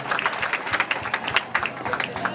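An audience at a Montessori international school graduation day claps, producing a brief, scattered patter of hands with uneven peaks and some crowd murmur.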